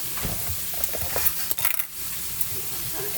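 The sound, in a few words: stirring butter and rice in sizzling pan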